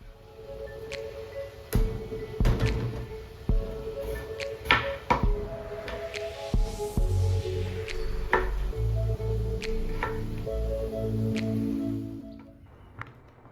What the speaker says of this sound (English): now chop your yam into pieces.